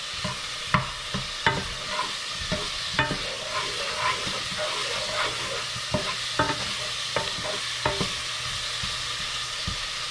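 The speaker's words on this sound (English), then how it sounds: "And add in your pineapple. You want to cook out some of that pineapple flavor." Pineapple barbecue sauce sizzles steadily in a pan while a utensil scrapes and taps through it, giving a regular series of stirring clicks over the constant frying hiss.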